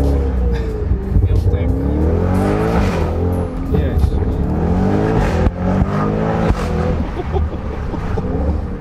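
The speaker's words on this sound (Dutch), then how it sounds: "Nu rijd ik zelf een stukje mee met de RS6 filmcar." Audi RS6 filming car driving on the road, a steady loud engine and road roar throughout with rising and falling revs, heard from inside the car with people talking over it.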